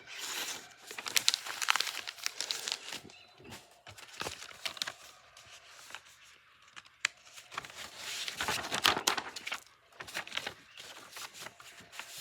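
A fixed blade knife of N690 steel slices through new rope in repeated cut tests, giving crisp fibrous snaps and crunchy tearing bursts spaced irregularly, fairly close and quiet, with no talk.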